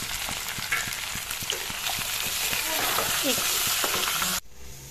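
Fish pieces coated with turmeric, chilli powder and salt fry in hot oil in a pan for a fish curry with okra and potato, a steady loud sizzle with light stirring taps, cut off abruptly near the end.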